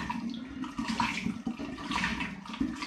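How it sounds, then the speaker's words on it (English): Apple juice pours into a cider brewing container, a gurgling, splashing stream of liquid that runs steadily and fairly close, with no talking. "So I'm going to add 2 of the litres of apple juice in."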